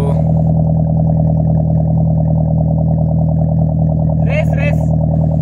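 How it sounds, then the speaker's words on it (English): A Suzuki Wagon R with a loud HKS sports muffler gives a steady, loud engine rumble with a deep exhaust drone, idling and holding close, with a brief higher whine near the end. "I can feel the roar from this exhaust and the exhaust is too loud."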